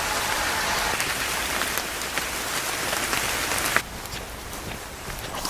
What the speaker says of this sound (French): Et il pleut à nouveau